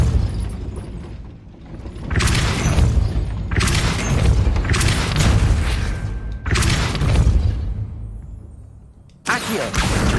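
Repeated Depulso force-push spell impacts in Hogwarts Legacy, cast inside a gatehouse to raise a gate: four loud booming blasts, each with a rumbling decaying tail, separated by short gaps.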